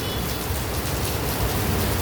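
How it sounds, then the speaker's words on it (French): Heavy rain pours down in Vietnam, heard from a sheltered shop entrance as a dense, loud, unbroken hiss of drops on surfaces with no voices. "En direct du Vietnam, sous la pluie."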